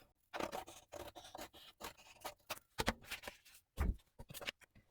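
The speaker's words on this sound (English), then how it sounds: "I'm going to actually go up to this score line here, cut it at an angle, and then cut all this off" Scissors snip through scrapbook paper at an angle along a score line for a 9x5 mini album, giving a close, irregular run of crisp cuts and scraping strokes with short pauses between them.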